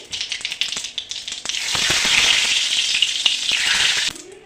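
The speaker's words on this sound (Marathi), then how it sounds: "एक छोटासा चमचा राई घालत आहे कढीपत्ता घालत आहे" Mustard seeds crackle in hot oil with quick sharp pops, then curry leaves hit the pan and a loud, sustained sizzle takes over before cutting off, close up with no speech.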